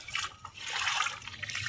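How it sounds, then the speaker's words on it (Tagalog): Floodwater rushes along a swollen river after heavy rain, heard as a faint, uneven wash of trickling and gushing water. "Grabe ang tubig sa ilog."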